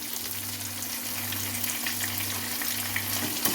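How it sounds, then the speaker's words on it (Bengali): Onions frying in a pan for a mutton mince and peas dish, a steady, even sizzle of hot oil with a low background hum, close and continuous without any speech. "এবার আমি দিয়ে দেবো পেঁয়াজ পেঁয়াজটাকে ভালো করে লাল লাল করে ভেজে নিতে হবে"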